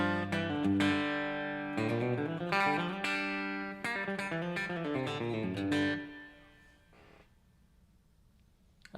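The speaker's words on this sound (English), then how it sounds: "if I turn off the compressor," Clean electric guitar with single-coil pickups played without a compressor, a bright chicken-picking style run of plucked and chorded notes lasting about six seconds, then ringing out into low amp hum.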